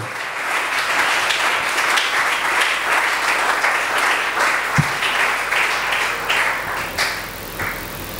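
A church congregation claps and cheers in sustained applause for the word, a dense, even wash of many hands lasting several seconds, with a few sharper taps near the end.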